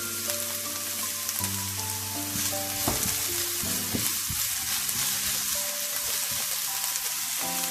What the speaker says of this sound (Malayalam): എന്നിട്ട് അതിലോട്ട് സവോള ഇട്ട് കൊടുക്കാം